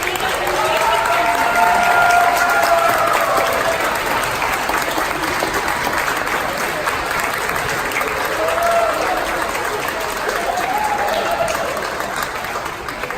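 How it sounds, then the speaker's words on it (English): A standing audience at a Yale summer science program closing ceremony applauds the scholar seniors with loud, sustained clapping from a large crowd and scattered cheers and voices. "give the last round of applause to our scholar seniors"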